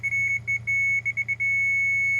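Grade-checking laser receiver beeping beside a Kubota KX040-4 mini excavator while gravel is placed in footings: a steady, piercing tone broken by several short gaps, heard over a low, constant engine rumble.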